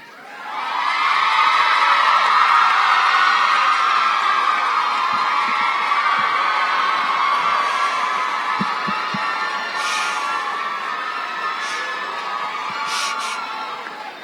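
Debate audience roaring with sustained cheering, shouts and whoops, a loud, dense crowd swell that holds steady for over ten seconds before slowly easing, with sharp claps and yells poking through near the end.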